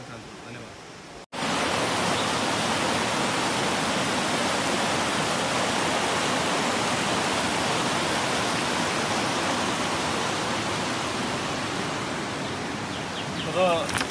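A river rushes past in a loud, steady broadband roar, starting after a brief quieter moment and holding constant to the end, close and without pauses.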